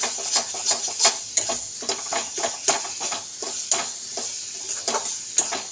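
Cauliflower dry-fries in a pan for a leaf-paste dish, with repeated scraping and stirring strokes over a light sizzle, at an irregular rhythm and close up, with no voices.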